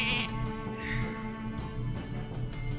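Sheep bleating from a Polymorph card effect in the Hearthstone video game, a short bleat rising over steady game music and sound effects.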